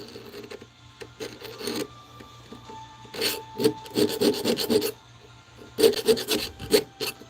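Hand file rasping over a metal workpiece on a workbench to take off a burr, with repeated bursts of scraping strokes in clusters, close and fairly loud, and quieter pauses between them.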